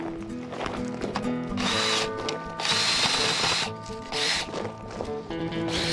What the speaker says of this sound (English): And then you turn your drill on to twist it around.